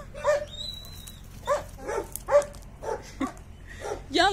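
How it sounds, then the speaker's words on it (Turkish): Dogs bark and whimper at unfamiliar dogs approaching. Several short barks and yips come in uneven bursts, with a high whine near the start, close and moderately loud. "Sürekli bir başka köpek geliyor"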